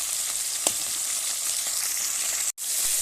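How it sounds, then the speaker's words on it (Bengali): Bhangan fish fry in hot oil in a pan with a loud, steady sizzle and a close, dense crackle throughout. One sharp spit stands out, and the sizzle drops out for a moment near the end. No one speaks. "তো মাছগুলো ভালোভাবে ভাজা হয়ে গেছে,"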